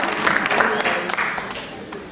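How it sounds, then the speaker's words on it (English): Audience applause after student music and dance performances at an Annamacharya festival stage event: a dense, steady patter of clapping that runs the whole time, with a voice talking over it. "I want to give another big round of applause for all the students who are here from Mama School"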